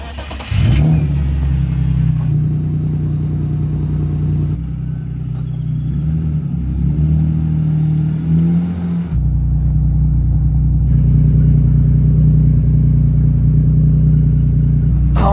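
A supercar engine revs hard while driving, loud and close, with rising and falling surges of throttle and a deep rumble that drops off briefly before picking up again.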